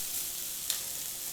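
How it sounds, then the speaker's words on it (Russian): Shawarma meat frying on a flat hot griddle surface, a steady soft sizzle with a brief louder hiss partway through, close and alone. "поджариваем так немного"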